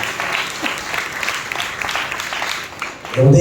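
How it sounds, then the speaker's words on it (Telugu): Loud, steady clapping from a church congregation during a New Year's Eve watch night service, a dense wash of applause running throughout, with a brief burst of voice or music near the end. "బిగ్గరగా చప్పట్లు కొట్టి ప్రభువుని కనపరిచాడు."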